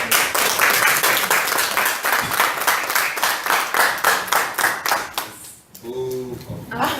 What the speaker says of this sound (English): let's have a huge round of applause for Rooster